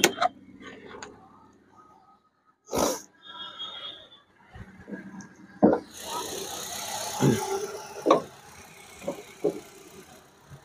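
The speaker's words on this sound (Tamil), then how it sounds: "வாங்க வண்டியோட இன்ஜினை நான் ஸ்டார்ட் பண்ணி காட்டுறேன்." A Hyundai i10's engine is cranked and starts, followed by ticking idle and scattered clunks and thumps nearby, with faint background voices.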